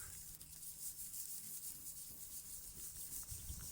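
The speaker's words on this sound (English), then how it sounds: "if you take some sandpaper, this is just 400 grit, then go over the entire surface" A scratched surface is rubbed with 400 grit sandpaper in a continuous, soft, hissing back-and-forth scrub, faint and close with no talking.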